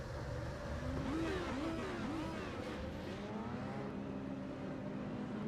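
An iRacing pace car pulls away from the starting grid, its engine rising in pitch through steady revving gear pulls. The engine is loud and continuous for the whole stretch, with no voices over it.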